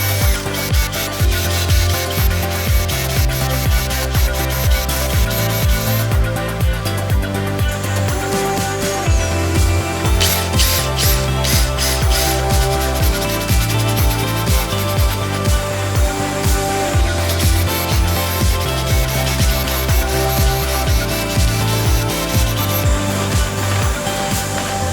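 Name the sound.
drilling mounting holes through two panels at once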